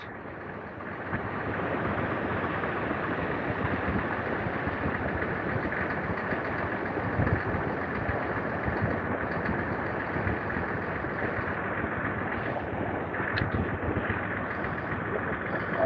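Twin Suzuki four-stroke outboard engines idling on the back of a 19-foot Hellcat boat at a launch, a steady low rumble with a faint knocking texture that holds evenly throughout, with no talk.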